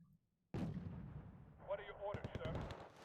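Heavy gunfire and artillery from the video game Wargame: Red Dragon erupt after a near-silent start, with a booming blast followed by rapid bursts of machine-gun fire, loud and close, under occasional voices.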